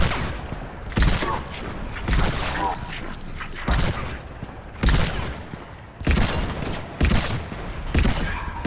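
Rapid gunfire bursts in a Mass Effect 3 firefight, repeated loud volleys roughly every second over continuous battle noise, with shouting voices mixed in.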